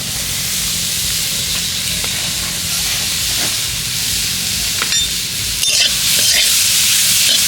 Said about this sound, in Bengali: কড়াইতে নারকেলটা দিয়ে দেব